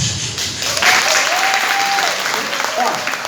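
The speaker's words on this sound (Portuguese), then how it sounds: "Pode aplaudir o Senhor, irmão" A church congregation applauds in a loud, continuous burst, with a sustained tone ringing through the middle of the clapping.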